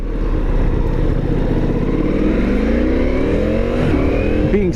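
A Ducati Multistrada V4S motorcycle being ridden, its engine droning loud and steady with wind rush, the pitch climbing through gears and dipping between shifts.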